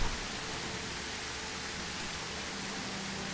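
Rain in an Unreal Engine 5 indie Nordic adventure game makes a steady, dense hiss that stays even throughout, alone without voices.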